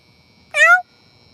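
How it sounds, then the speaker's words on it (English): A cat under a car gives one short, clear meow, loud and close, set against a quiet outdoor background with no talking. "but that is a cat under a car."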